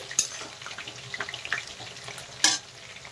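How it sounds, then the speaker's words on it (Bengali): Vegetables for fried rice fry in a pan, a soft continuous sizzle with light stirring clicks and two sharper spatula taps, close and fairly quiet, no voices. "ফ্রাইড রাইস করার জন্য এখানে সবজিগুলো আমি ভেজে নিচ্ছি।"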